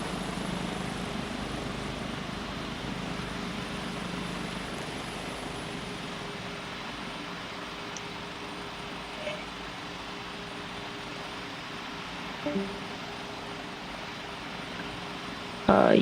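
An airplane takes off in the Roblox flight simulator PTFS, a continuous engine drone and airflow hum holding steady throughout, with a few faint clicks near the end.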